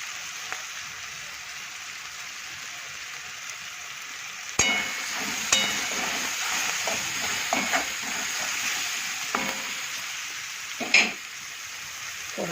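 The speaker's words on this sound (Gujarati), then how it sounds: "ડુંગળી ટામેટાં શેકાઈ જાય પછી નાખી દઈએ ચણાનો લોટ જે આપણે બનાવ્યું છે એનું બેટર." Gram flour batter cooking with onion and tomato in a pan for chickpea flour bhurji, a steady sizzle with clattering stirs and scrapes that grow busier partway through, no talking.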